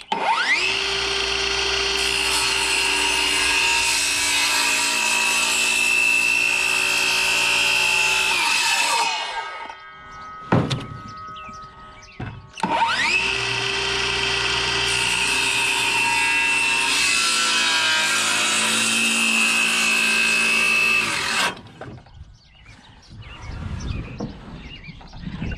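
Power saw cutting tongue and groove siding boards on a playhouse, two long sustained loud cuts of about nine seconds each with a brief pause between and quieter handling noise after.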